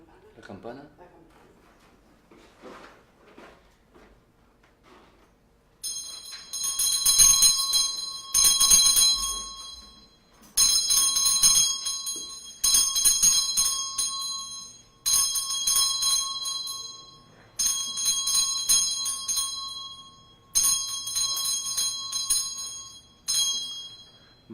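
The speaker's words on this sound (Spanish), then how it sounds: "La campana." Church bell rung during a Catholic Mass: a bright, metallic bell sounds in repeated shaken bursts with short pauses between them, following quiet voices at the start.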